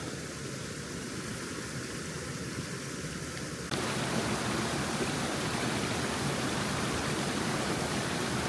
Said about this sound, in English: that is our jet boil. She's steaming pretty good.